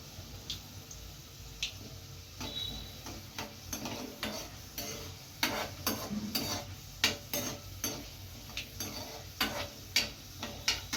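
Garlic, cumin and mustard seeds crackle and sizzle in hot frying oil for an Andhra-style okra fry, with steady close sizzling, sharp popping bursts and occasional stirring scrapes.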